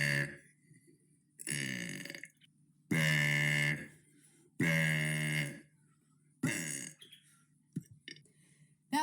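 A person lets out a series of loud, drawn-out burps, four main ones separated by short silences, followed by a few small clicking mouth sounds near the end.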